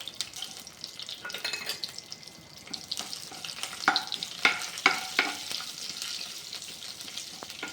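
Cumin and fennel seeds fry in hot oil with a close, crackling sizzle, sharp pops and spatters bunching up midway while a spoon stirs the pan.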